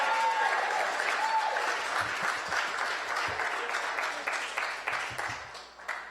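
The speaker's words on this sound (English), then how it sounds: "so give him another round of applause." An audience at a Saturday morning forum applauds steadily for several seconds, a dense wash of clapping that stays loud before thinning slightly toward the end.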